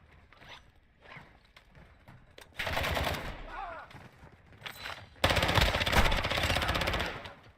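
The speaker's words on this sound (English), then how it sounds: "Requested airstrike at this location." Call of Duty DMZ airstrike, two loud bursts of rapid strafing cannon fire, a shorter one and then a longer, heavier one, with quieter distant clatter between them.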